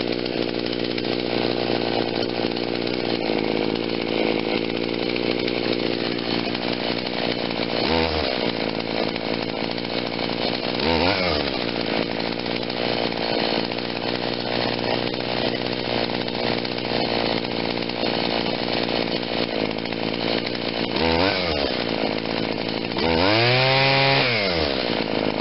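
Echo SRM-2100 string trimmer two-stroke engine running steadily close by, with several short throttle blips rising and falling from idle, the last one longer and higher; no talking.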